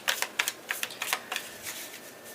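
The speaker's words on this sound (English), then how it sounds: "We're going to shuffle these out and start." Tarot cards being shuffled by hand, a series of quick crisp riffles and taps in uneven bursts, close and fairly soft, with no talking.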